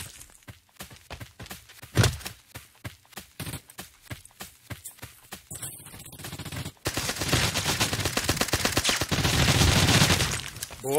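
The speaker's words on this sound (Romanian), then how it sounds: "A tras cineva după mine." Rapid bursts of gunfire from a PUBG-like battle royale game crack in clusters, followed by footsteps and then a loud sustained rumble of noise.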